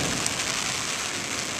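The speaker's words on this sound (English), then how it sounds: "I ain't standing in the rain," Steady rain pours down during a mountain thunderstorm in the Black Hills of South Dakota, a dense, continuous hiss of falling water heard up close with no voices.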